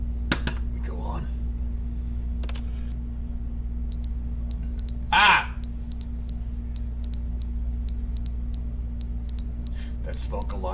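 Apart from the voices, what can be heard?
smoke alarm beeping in the video game The Stanley Parable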